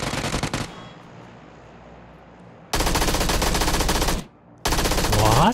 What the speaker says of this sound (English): Feel like I shot 5 shots in his head there.